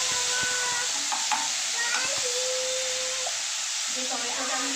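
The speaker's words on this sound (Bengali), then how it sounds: "সর্ষে দিয়ে এবার আমি টমেটোটা দিয়ে দিলাম।" Chopped tomato drops into hot oil with mustard seeds, setting off a steady, close sizzle and frying hiss, with a few faint clinks and stirring scrapes over it.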